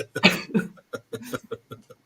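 A series of short, harsh coughs comes in quick bursts, close and fairly loud, with breathy gasps between them.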